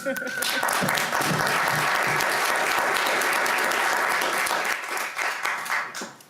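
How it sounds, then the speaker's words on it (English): A loud round of applause in a state House committee hearing room, dense clapping from many people sustained for several seconds before tapering off, with a brief voice at the start. "I think that deserves a round of applause"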